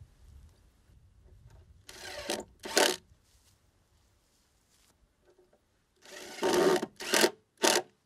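A power driver whirs in short close bursts, driving two 1.25-inch screws into a wooden cleat on a cold frame planter, with quiet pauses between the runs.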